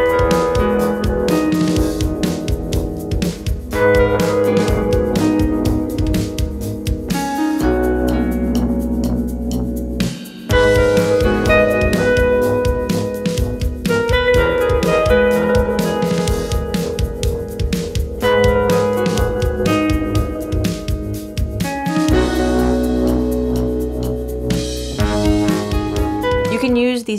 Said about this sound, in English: I'm going to use chroma console on the bass strings of my harp for fuzz and tremolo. And all that sounds like this.